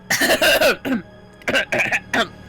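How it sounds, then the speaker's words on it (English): Several harsh coughs in quick bursts, a cluster of three then a pause, followed by three or four more, close and fairly loud. "Cough."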